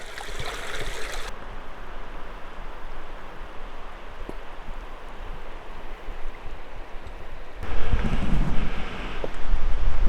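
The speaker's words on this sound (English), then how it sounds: "This is a little creek that comes down from the Washmawapta ice field." Small mountain creek fed by the Washmawapta ice field in the Canadian Rockies, a steady close rush of flowing water with gusts of wind buffeting the microphone near the start and end.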